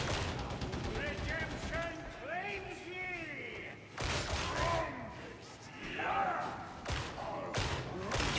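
Gunfire rattles in a Warhammer video game, bursts of rapid shots and sharp cracks coming in waves, heard under ongoing voices.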